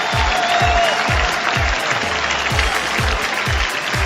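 A cricket crowd applauds a driven shot by Sachin Tendulkar, a dense, steady roar of clapping and cheering with rhythmic low thumps running underneath throughout.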